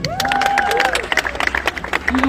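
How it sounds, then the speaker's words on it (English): A church or testimony-meeting crowd claps for Gideon, steady applause rising under a voice and overlapping talk, fairly close and loud for a couple of seconds. "Let's clap for Gideon."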